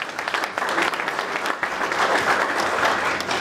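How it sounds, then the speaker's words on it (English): A room of attendees at a chamber of commerce breakfast gives a brief, close round of applause, dense clapping that swells and holds steady for a few seconds. "a round of applause"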